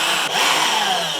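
A power drill boring test holes runs as a continuous loud high-pitched whir with a brief dip near the start, with no talk.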